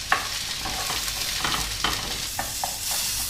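Mushrooms, salted and peppered, browning in a hot pan produce a close, steady sizzle broken by repeated scraping stirs of a utensil against the pan.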